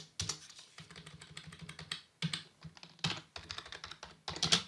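Rapid computer keyboard typing in bursts of clicky keystrokes, close and fairly loud, with brief pauses between runs and no talk.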